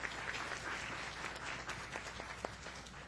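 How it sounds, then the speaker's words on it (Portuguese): A seminar audience applauds the state organizing committee, a fairly quiet, diffuse round of clapping from a crowd with a few sharper individual claps standing out near the end. "por favor, uma salva de palmas a todo o pessoal da comissão estadual que organizou esse evento"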